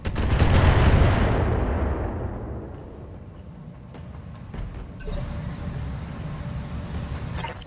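Heavy mech weapons fire in the BattleTech Roguetech game, a loud booming barrage at the start that fades into a rumbling tail, followed by further distant thuds and crackling impacts.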